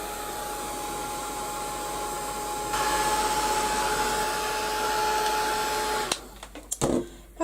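A hair dryer blows steadily over fresh paint on a wooden frame, a loud whirring hiss with a faint whine that strengthens partway through, then cuts off and is followed by a few clicks and knocks.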